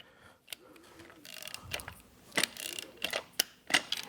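A ratchet tightens bolts while a Sanden mini AC compressor is installed on a 2020-and-later LT engine, giving a handful of short, sharp clicking bursts close by, separated by quiet pauses.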